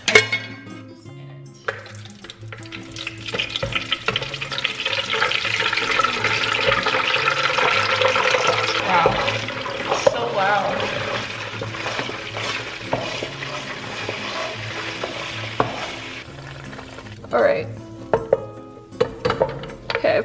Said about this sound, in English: popped the rest of the ice cubes in there